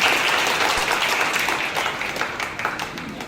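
An audience at a diamond traders' ceremony in Bhavnagar breaks into loud, dense applause, many hands clapping continuously and close, tapering slightly toward the end.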